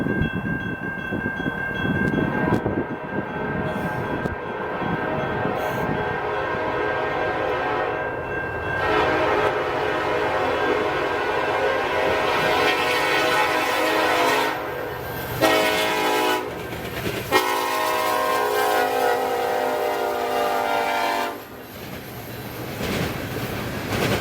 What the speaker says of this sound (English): it was finally time for the NS train to come by